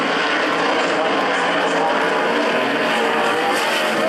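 Sprint cars racing around a dirt track, engines screaming at high revs in a loud, sustained roar that swells and fades slightly as the cars pass, with a commentator's voice faintly underneath.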